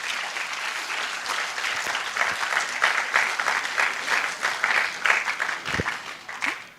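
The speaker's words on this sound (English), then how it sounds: "give a round of applause for the entire community that has come together today" Lively, sustained applause from a large crowd honors the community at a university closing ceremony, with individual claps audible in a steady wash that swells and then fades slightly.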